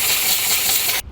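Brake cleaner blasts from an aerosol can onto an engine part of a 2016-2022 BMW X1 2.0L, a loud, close, steady hiss that lasts about a second and then cuts off sharply.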